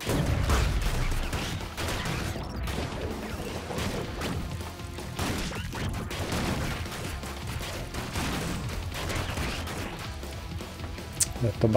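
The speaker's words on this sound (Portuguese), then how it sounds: "Eu tô batendo de frente com os tiros" Rapid gunfire and impact crashes from the fast-paced action game ScourgeBringer, dense and continuous for the whole stretch, mixed with game music and effects, with bursts of shots and hits throughout.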